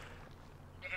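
A Minecraft sheep bleats in the video game, one short, fairly loud bleat over a low steady background hum, with no talking during the cry.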